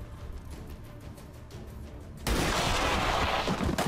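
A soldier's gunshot in the video game XCOM 2 lands as one sudden, loud blast over quiet game ambience and rings out to the end.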